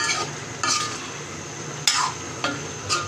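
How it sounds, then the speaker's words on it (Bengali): Sweet pumpkin stir-fries in a pan in a home kitchen, a faint low sizzle running underneath while a utensil scrapes and taps against the pan several times at irregular intervals. "আর এখানে মিষ্টি কুমড়া ভাজি করতেছে, দেখেন।"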